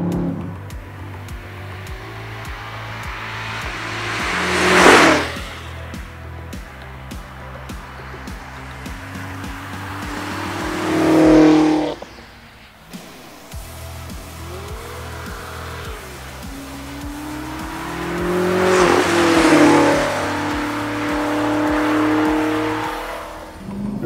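A 2016 BMW M6 Gran Coupé sport sedan with 600 horsepower accelerates hard. The engine surges loudly through rising gears, with shift interruptions and roaring peaks around five, eleven and twenty seconds, and nobody speaks.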